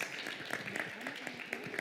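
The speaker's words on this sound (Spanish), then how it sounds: "Un aplauso para el doctor Charpentier" An audience at a medical talk applauds a visiting infectious disease doctor, a faint, short burst of scattered clapping with distinct hand claps ticking through a soft, continuous patter.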